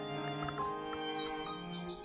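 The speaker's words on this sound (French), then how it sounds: "vous entendez aussi les oiseaux" Wild birds chirping and singing inside the grounds of an abandoned château, a few light, bright calls scattered over a steady faint background, moderately distant and without speech.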